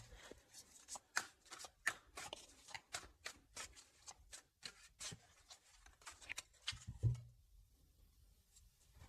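A deck of tarot cards is shuffled by hand at close range, a quick run of soft riffling and slapping card strokes in an uneven rhythm, quiet and unaccompanied, ending with a single soft thump.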